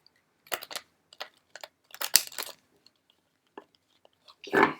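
Tarot cards being shuffled nearby, several short riffling bursts with pauses between them, ending in a louder final flutter.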